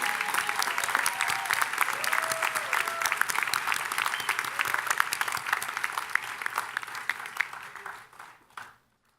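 An audience applauds graduates steadily in a large room at a business school commencement, dense clapping that carries on for several seconds before tapering off to silence.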